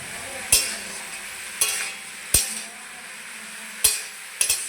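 Pieces of ash gourd with turmeric and salt are stirred in a pan, a soft sizzling bed broken by about five sharp, irregular clanks of a utensil striking the metal.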